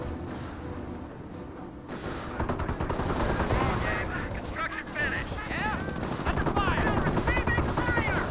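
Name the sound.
anti-tank guns firing in video game Company of Heroes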